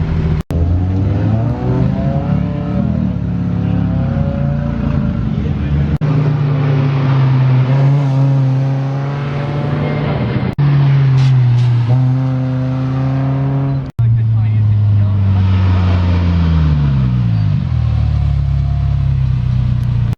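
A race car runs hot laps on a track, its engine loud and close as it revs up through the gears, drops at each shift and climbs again.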